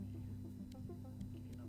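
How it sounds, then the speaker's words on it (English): A 500 hertz sine wave tone in the Stories Untold video game holds as a steady electronic hum for the whole stretch, with faint small clicks over it. "Increase to 500 hertz sine wave."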